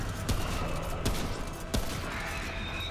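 Gunfire in the game Remnant: From the Ashes, three sharp shots spaced about a second apart over a steady dense background of game noise.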